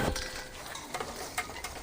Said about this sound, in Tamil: நல்லா கலந்து எடுத்துக்கலாம்.